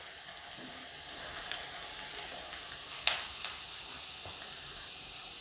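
Onions fry in a pan for an aloo methi dish, giving a soft, steady sizzle with occasional small pops and clinks of a utensil, fairly quiet and close.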